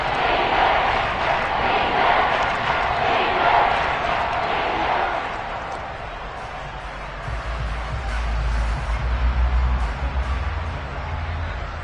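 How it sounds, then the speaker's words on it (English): A football stadium crowd in a Texans game roars and cheers loudly as a big third down approaches, a broad sustained swell that eases off midway, then continues under a low rumbling hum. "the crowd getting into it as we come up on a big 3rd down"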